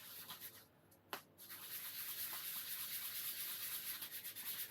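Hand sanding of wooden edges with sandpaper during final finishing, a steady close rasping rub running almost continuously with a brief sharp knock near the start and no talking.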